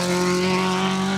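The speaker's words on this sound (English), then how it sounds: "Luke Watts sounding like he needs a new exhaust." Rally car on a special stage of the Trackrod Rally Yorkshire, a two-wheel-drive entry with a raspy, blown-sounding exhaust, roaring loud and steady past at close range with a droning engine tone, no voices.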